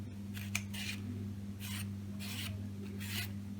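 A knife slices through cucumber into cubes in a few separate crisp strokes, each a short rasping cut with pauses between, close and quiet over a low steady hum.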